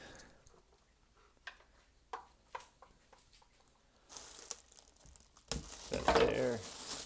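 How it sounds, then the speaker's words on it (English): Scissors cutting open the plastic packaging of a soldering iron station: sparse crinkles and snips at first, then louder crumpling and tearing of plastic building toward the end, close and alone. "let's get some scissors"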